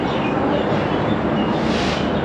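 A train rumbles loudly and steadily at Banihal station, bound for Srinagar in Kashmir, a dense close roar of carriages with no pauses.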